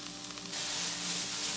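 Seitan roast ingredients sizzling in a pan, a soft crackle that jumps into a louder, steady frying hiss.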